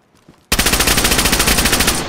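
Video game automatic gunfire erupts suddenly after a brief quiet moment, a loud rapid burst of about fifteen evenly spaced shots, close and alone.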